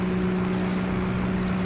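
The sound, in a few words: motorboat engine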